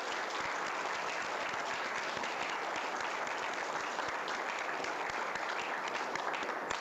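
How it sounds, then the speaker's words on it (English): A conference audience claps together in a dense, steady round of applause lasting several seconds, close and even throughout with no talking over it. "So I think we should give a nice round of applause to Bernice Watson in the back."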